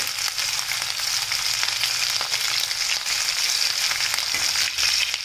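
Finely chopped garlic sizzles in oil with popping mustard seeds, a loud, steady hiss sprinkled with small crackles throughout.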